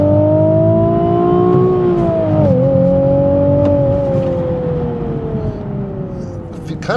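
A Nissan 370Z sports car with a manual transmission accelerates hard on a race track, its engine note droning loudly and climbing, then dipping briefly at a gear change before rising again, heard steadily from inside the car.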